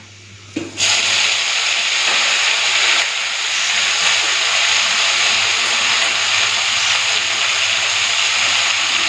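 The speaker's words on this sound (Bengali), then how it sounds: "রসুনটা ভাজা ভাজা হয়ে গেছে এখন দিয়ে দিচ্ছি এই যে নটে শাক" Amaranth greens drop into a pan of fried garlic, setting off a sudden loud sizzle after a short quiet moment. The hiss then holds as a strong, steady roar to the end.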